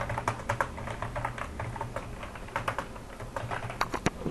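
Steady typing on a computer keyboard, with quick irregular clusters of clicking keystrokes over a low background hum and no voices.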